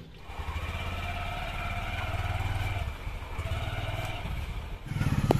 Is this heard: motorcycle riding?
yes